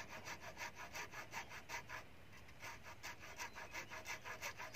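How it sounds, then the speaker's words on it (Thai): A hand saw cuts through bamboo at a bamboo bridge build in a farm garden, giving steady, rhythmic back-and-forth strokes close by, with a brief pause midway before the sawing resumes. "เลื่อยตัวนี้ออกครับ"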